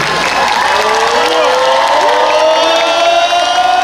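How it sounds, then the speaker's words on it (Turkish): A concert crowd at a show in Ordu cheers and applauds to see off the university rector, with steady dense clapping, whoops and shouts filling the space and voices mixed into the din. "alkışlarla rektörümüzü ve Yasemin'i uğurluyoruz"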